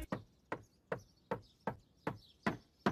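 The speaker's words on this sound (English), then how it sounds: "you've been knocking a while." Knocking on a door in a cartoon, eight evenly spaced sharp raps about every 0.4 seconds, close and crisp, with no talking.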